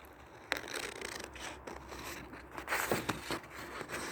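Scissors cut through a plastic spoon in a few crisp, separate snips and crunches, close and fairly quiet.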